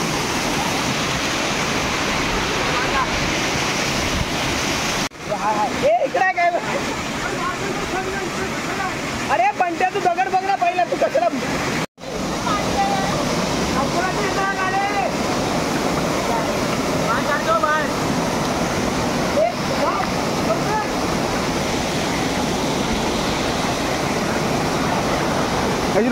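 A Konkan waterfall pours down with force in a steady, dense roar, while people talk nearby over the rushing water.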